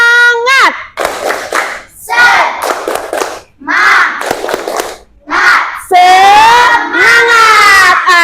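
Third-grade pupils in an Indonesian primary school classroom clap in rhythmic bursts while chanting loudly together in a call-and-response icebreaker led by their teacher. Loud, close group voices alternate with short clapping patterns.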